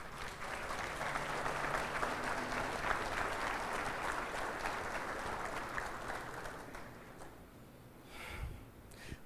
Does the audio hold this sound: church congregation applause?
yes